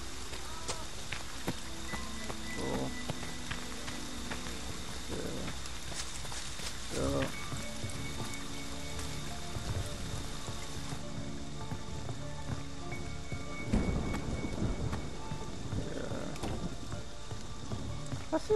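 Steady rain falls throughout a night scene in Friday the 13th: The Game, a constant hiss over faint footsteps and scattered thumps, with someone talking over it at times.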